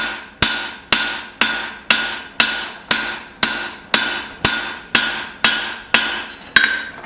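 Steel cleaver blade being hammered flat during forging, a run of about a dozen sharp, ringing metallic blows at a steady rhythm roughly every half second, close and loud with short decays between strikes.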